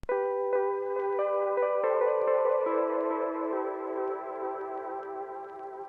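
A Wurlitzer electric piano treated with RC20 and FabFilter Pro-Q 2 plays a few struck chords, each note ringing out and slowly decaying into a warm, saturated sustain, clear and alone without talk.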